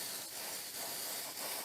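Cooling spray is blasted onto an RTX 4080 graphics card board in a faint, steady hiss that swells slightly in short bursts, heard alone with no voices.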